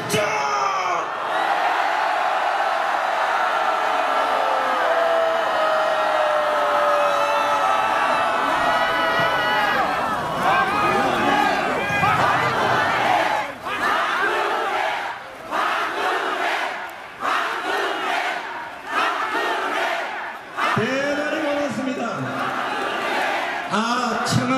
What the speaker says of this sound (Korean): 대한민국을 지키는 이 함성 소리는